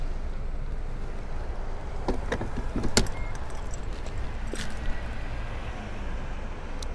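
A CHAdeMO connector is plugged into an electric car at a fast charger, producing a few close metallic clunks and rattles over a steady outdoor rumble, with no voices.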